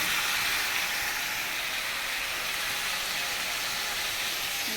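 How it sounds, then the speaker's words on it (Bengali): Chicken neck, giblets and stomach sautéing in a pan with salt and turmeric, giving a steady, bright sizzling hiss that holds evenly throughout with no talk. "চলো ভালো করে কষিয়ে নিই।"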